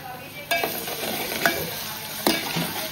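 Onion and tomato cooking in a pan for a chana masala, with a steady low sizzle broken by three distinct scraping stir strokes spaced about a second apart, close and alone with no talk.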